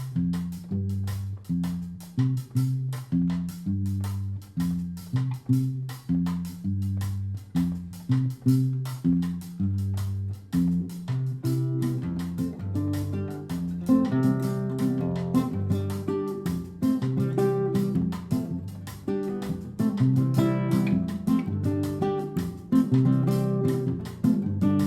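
Latin jazz bass line played on guitar over a clave rhythm, a steady pattern of punchy low plucked notes that repeats without pause, denser upper notes joining about halfway, loud and close with no talking.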